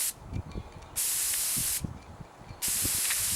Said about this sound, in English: Now this gun is set up to spray very dry, thin coats.